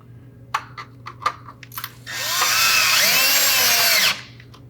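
A few light clicks and taps of a screw and washer being handled come first, then a power drill drives the screw through a panel hole with a loud, steady whir lasting about two seconds before stopping.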